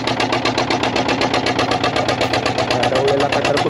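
A fishing boat engine runs steadily at sea, a loud, close, even mechanical chug with a regular rapid pulse and no speech.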